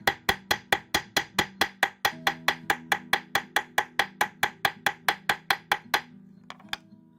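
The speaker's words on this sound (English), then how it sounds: "I'm going to hammer out the tail" Sharp, ringing metal taps as a small hammer flattens the tail of a wire treble clef pendant, about two dozen evenly spaced strikes at a quick steady pace, then a few faint clinks.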